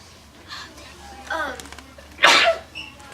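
A single sharp sneeze bursts out near the end in a classroom, following some quiet murmuring and a brief vocal sound earlier, over a low room hum.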